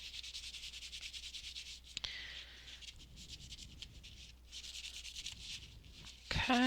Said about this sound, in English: I'm just going to take some paper towel and just give them a quick rub over